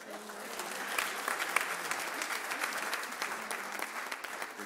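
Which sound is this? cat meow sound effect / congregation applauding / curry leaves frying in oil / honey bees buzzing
congregation applauding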